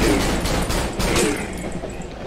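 Rapid burst of gunfire in the horror video game Cry of Fear, several quick shots running together over about two seconds, loud and sharp.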